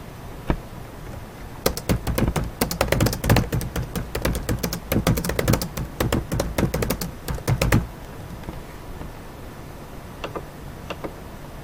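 Rapid typing on a computer keyboard, a dense run of close, crisp key clicks for several seconds, then a few isolated taps in a quiet room.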